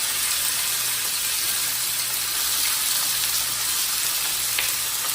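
Sliced chicken strips frying in a hot pan for a stir fry, giving a steady, even sizzle that runs unbroken from start to finish with no voices over it.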